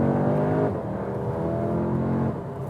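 A 2021 Audi S3 Sportback hatch engine hums close and steady while driving in comfort mode, a smooth mid-range drone that eases off slightly partway through with no voices.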